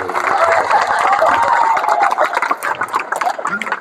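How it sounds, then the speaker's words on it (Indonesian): A burst of clapping from a crowd of hundreds of Islamic boarding school students at a motivational seminar, with some cheering, loud at first and thinning out toward the end. "tepuk tangan buat aktor ibadah"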